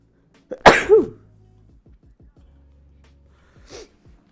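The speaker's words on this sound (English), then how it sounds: "I'm gonna sneeze." A single sharp, close sneeze bursts out, followed by quiet and a faint breathy sound a few seconds later.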